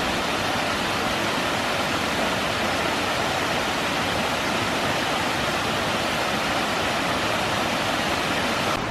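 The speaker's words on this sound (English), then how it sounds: "But yeah, this is Autrain Falls." Au Train Falls, a waterfall running at reduced flow, gives a steady, dense rushing roar that holds unchanged throughout without any voices.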